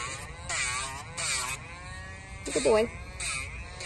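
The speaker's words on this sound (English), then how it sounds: "I'm just using the Dremel to clean this up" A Dremel rotary tool grinds a dog's nails, giving short, close, high-pitched buzzing bursts that rise and fall in pitch as it touches each nail. Brief pauses fall between bursts, and a person speaks softly to the dog.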